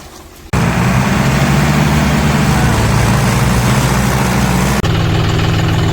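A new Massey tractor, hitched to a trolley and stopped, idles with a loud, steady low rumble and vibration that starts abruptly after a brief pause and runs unbroken for about four seconds before cutting off sharply.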